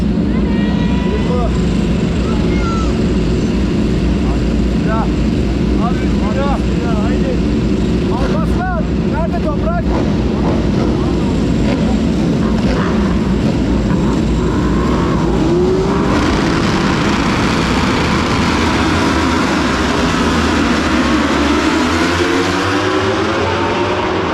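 Race start of the second main race at Magny-Cours, heard from the grandstand: a loud, continuous roar of engines accelerating away together, with pitch sweeping as machines pass, and a voice talking over it.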